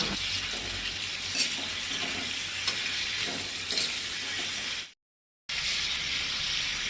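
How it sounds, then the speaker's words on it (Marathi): Tomatoes and dried coconut roast and sizzle in a pan for a Goan rice and urad dal dish with dill leaves, a steady close frying hiss broken by a few stirring scrapes and one short silent gap. "टमाटां मोव जायसर भाजपाक जाय."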